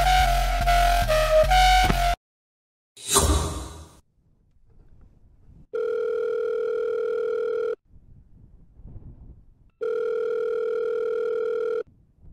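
A telephone call going unanswered, with two long, steady ringback tones separated by a pause and a faint rustle in between, heard after a short burst of music at the start.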